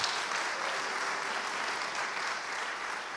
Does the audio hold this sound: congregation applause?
yes